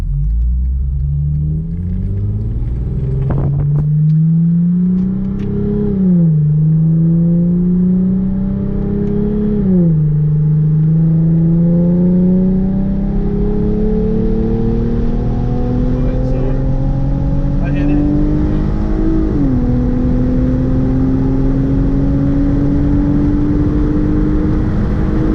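A tuned Hyundai Genesis Coupe 3.8 V6 accelerates hard through its gears, each rising engine drone ending in a brief dip at the shift before climbing again. The engine stays loud and close throughout, with steady road rumble underneath.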